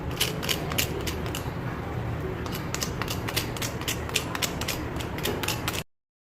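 Continuous crisp crunching and crackling of fried potato fritters (aloo pakoda) being broken or bitten, close up, with rapid sharp snaps throughout and no voices.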